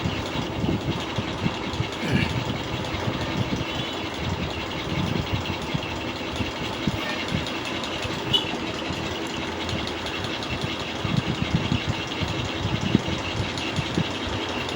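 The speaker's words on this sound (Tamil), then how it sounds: "மேலே டபுள் தையல் ஒன்று போடுறேன் பாருங்கள்." A sewing machine runs a double line of stitching along a blouse seam, a continuous close mechanical whirring and rapid chattering hum that holds steady throughout with no talking.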